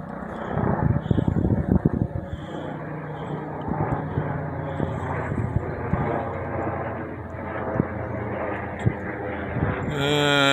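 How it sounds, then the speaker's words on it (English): A police helicopter drones overhead with a steady low rotor thrum, fairly distant and continuous, with a faint voice and wind rumble mixed in. "It's probably a state trooper or police helicopter."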